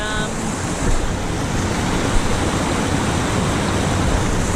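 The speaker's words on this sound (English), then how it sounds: "Here I am in the water. On this beautiful waterfall." A Yosemite waterfall rushing with a dense, constant roar of falling water, loud and close, broadband and unbroken throughout.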